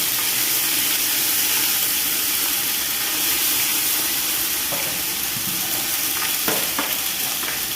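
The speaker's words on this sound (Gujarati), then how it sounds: "તો મિત્રો આપણે ગુવાર તેલમાં ફ્રાય થઈ ગયો છે" Cluster beans fry in hot oil with ginger-chili paste, garlic and curry leaves, making a loud, continuous sizzling hiss with occasional stirring clicks near the end.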